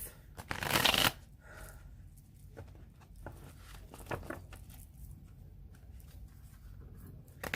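Tarot cards are riffled and shuffled, with a loud burst of shuffling near the start followed by softer, irregular card handling and light taps close by.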